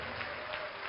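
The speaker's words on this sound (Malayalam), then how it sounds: "കൈയടിച്ച് കത്ത നന്ദി പറഞ്ഞേ" A church congregation claps hands together in thanks during a Divine Mercy service, giving a brief, dense and steady burst of many hands, moderately faint and heard from a distance.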